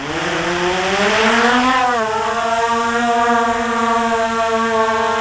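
A small quadcopter camera drone lifts off outdoors, its close, loud motor whine climbing in pitch for about two seconds before settling into a steady hum, with no talking.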